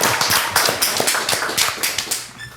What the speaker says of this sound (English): Let me get a round of applause. Everybody clap.